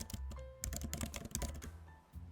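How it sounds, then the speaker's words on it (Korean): A student types on a computer keyboard during a classroom quiz, producing quick, irregular bursts of soft key clicks at close range, faint overall and with no talking. "학생이 여기에서 타자를 치는 겁니다"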